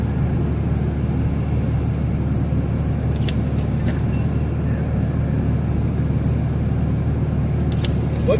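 A 2005 Jeep Grand Cherokee Laredo drives through about four inches of falling snow during a Pittsburgh winter storm, its steady low engine and road rumble heard from inside the cabin with no break or change across the stretch.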